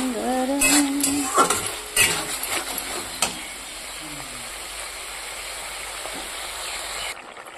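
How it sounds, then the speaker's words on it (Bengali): Potatoes sizzle in a pan with spices while a utensil stirs and scrapes them, several clattering strokes at first, then a softer continuous frying hiss; a brief voice is heard early on. "এবার মশলা দিয়ে কষিয়ে নিচ্ছি"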